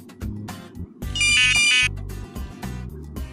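A Delphin OPTIMO fishing bite alarm, still wet after being submerged, sounds a piercing electronic beep lasting about a second, close and loud amid dripping and handling noise.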